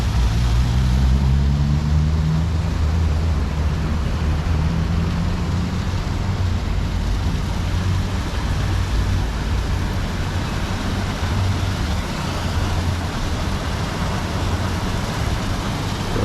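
A new automatic car wash at a Total gas station on Gilmore Drive in Kingston runs its spinning brushes along a vehicle's sides, giving a steady, loud, broadband whooshing roar over a low mechanical hum, with no talking.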